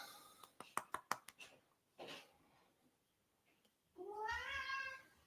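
An orange cat meows while being held. A run of sharp rustles and clicks comes first, then a gap, then one clear, drawn-out, rising meow close by. A faint whisper-like breath is heard in between.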